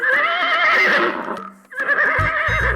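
A white horse whinnies loudly in two shrill bursts separated by a brief dip, with a few dull thumps under the second call and no talking.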